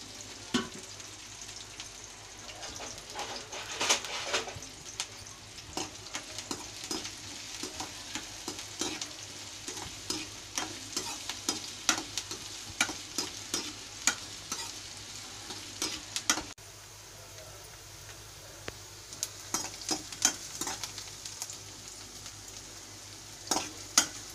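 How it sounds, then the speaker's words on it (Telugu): Chopped onion and green chilli fry in a pan with a soft, continuous sizzle, broken by frequent scraping stir strokes of a spatula at an uneven rhythm. "దీనిలోనే ఒక ఉల్లిపాయ కట్ చేసుకొని వేసుకొని ఫ్రై చేసుకోవాలి."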